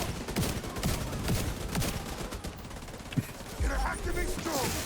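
Turret gunfire in a video game comes as rapid bursts of repeated shots. The bursts are fairly loud and keep going across the whole stretch, mixed with other game sounds and a voice speaking at times.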